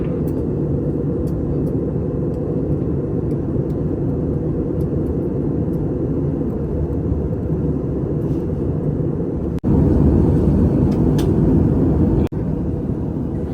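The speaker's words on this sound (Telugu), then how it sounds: "సో ఫైనల్లీ హైదరాబాద్ ల్యాండ్ అయిపోతున్నాం" A passenger jet cabin hums and rumbles as the plane descends to land in Hyderabad. The deep drone is loud and continuous, swells louder toward the end, and two brief knocks are heard near the close.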